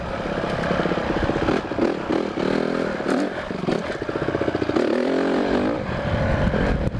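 Pit bike engine revving hard while not yet warmed up, a loud close buzzing roar that rises and falls in uneven bursts with some clatter, no talk over it.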